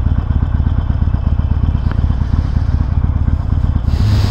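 A Harley-Davidson Iron 1200 motorcycle idling close by, a loud, steady, lumpy low rumble with a rapid thumping pulse that continues throughout, with a brief change in tone near the end.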